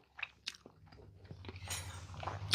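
Chips crunch inside a chili cheese omelet with fresh jalapenos as it is chewed up close, a few sharp bites followed by steady crunchy chewing that builds in loudness.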